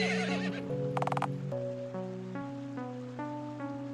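Horse in the Final Profit shop RPG letting out a clear whinny over looping tonal game music, with a brief rapid clip-clop burst near the start and the melody continuing after.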